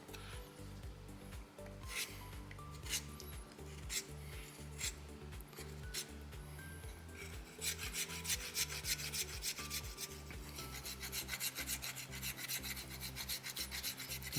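Soapstone is worked with a rasp while carving an owl figure, making steady, faint scraping strokes that repeat in a rhythm and grow quicker and denser toward the end.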